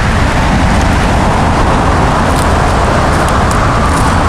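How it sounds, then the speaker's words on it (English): Constant, loud roar of road traffic from a busy highway close by, a dense broadband wash with no breaks and no talking. "Apologize for any road noise you're hearing there."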